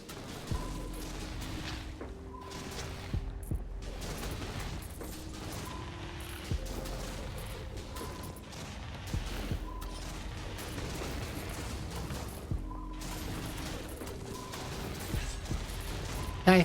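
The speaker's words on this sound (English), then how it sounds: "What is that explosion sound? Oh, it's the boat leaving barrels." Barrels dropped by a boat in a video game explode in repeated dull booms amid busy game music and mechanical clatter, each blast fairly loud and recurring every few seconds across the stretch.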